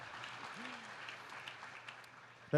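Audience applause at a town hall event with President Obama, heard as a faint, thin patter of clapping that fades under a low room hum before a short loud burst at the end.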